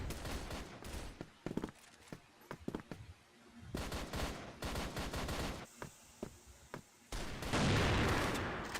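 Rapid bursts of automatic gunfire in a competitive video game match at an esports qualifier, loud, dense rattling volleys broken by brief pauses, with a faint voice underneath.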